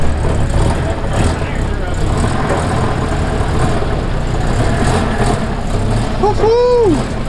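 A small car engine runs steadily as it pulls into a driveway, with a brief rising-and-falling whistle near the end and a voice nearby.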